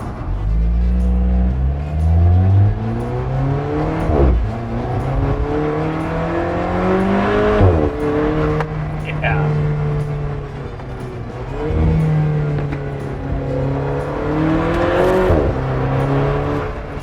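A 2016 Porsche 911 GT3 RS exhaust revs repeatedly, rising in pitch through several surging pulls with brief drops between, loud and close with no talking.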